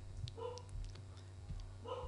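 A dog barks next door in short, repeated yips and woofs spread across a couple of seconds, moderately close over a steady low hum of room noise.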